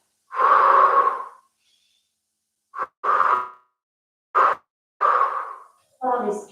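Deep, audible breaths during a yoga chest-opening exercise: a long loud inhale, then a series of shorter breathy exhales and inhales, close to the microphone with pauses of silence between them.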